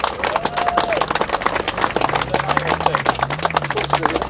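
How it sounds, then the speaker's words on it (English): Crowd at the B.R.A.V.E. Bomb Run 2018 event applauding the organising team, a sustained dense roar of clapping hands outdoors with a few voices and faint tonal sounds mixed in underneath. "one more round of applause, please, for the B.R.A.V.E. team"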